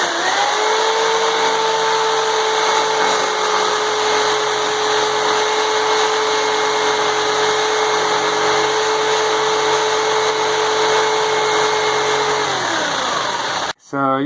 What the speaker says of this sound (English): Just use a real fine-tooth metal cutting blade and a saber saw to cut that rough shape out